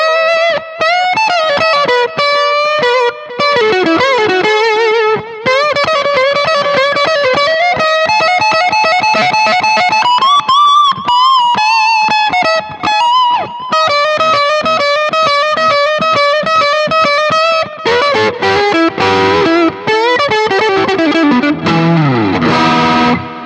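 STRICH beginner electric guitar, slightly out of tune, played loud and distorted with frequent string bends, sliding pitches and quick lead runs that continue throughout without any talking.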